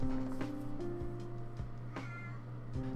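A cat meows repeatedly in short, clear calls during a Silent Hill 2 play session on hard difficulty, with a low game ambience humming underneath.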